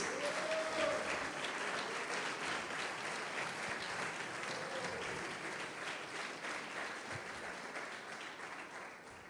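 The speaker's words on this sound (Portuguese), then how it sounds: "Pode aplaudir e glorificar Jesus." A church congregation at an eschatology conference applauds, a sustained dense wash of clapping with faint voices and cheers mixed in, steady at first and fading slightly toward the end.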